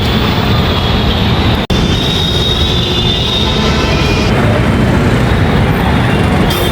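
A Rapid Metro train at a station in Gurgaon's Cyber City at night, a loud continuous rumble and rush of the train with a brief break partway through.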